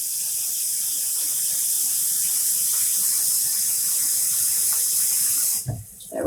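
Close, steady stream of water poured into a yarn dye bath, a continuous splashing hiss that cuts off near the end, followed by a few soft handling noises.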